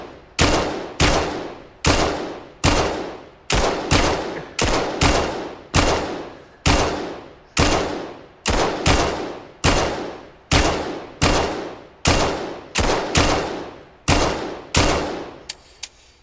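Sustained gunfire in the VR shooter Vail VR: loud bursts repeating at a steady rhythm about once a second, each a sharp crack with a decaying tail, continuing through one more magazine with no talk.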